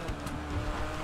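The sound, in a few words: RX-7 car driving in a racing video game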